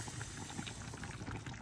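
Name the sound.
sarmale bubbling in a clay pot from the oven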